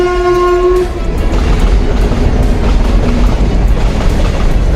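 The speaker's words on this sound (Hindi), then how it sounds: "ट्रेन भी आ गई" A train horn blares at the start, then the steady rumble and clatter of a train rolling in at a railway museum, loud and close.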